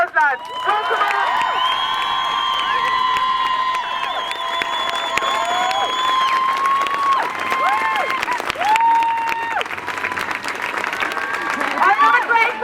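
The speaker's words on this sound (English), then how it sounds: "I'd like to give her a massive round of applause, lads" A crowd at a Cork march and strike rally for repeal claps hard and long, with whoops and cheers rising above the dense, sustained applause.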